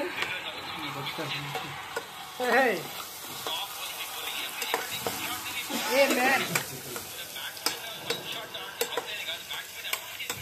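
Chicken bubbling and sizzling in a pot while it is stirred, with steady frying hiss, scraping and clinks of the utensil against the metal, and voices talking over the cooking.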